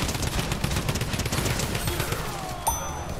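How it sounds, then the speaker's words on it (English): Gunfire in the video game Fortnite, a rapid stream of overlapping shots rattling at a fairly steady level, with a bright metallic ding near the end. "Oh no, we're getting shot at"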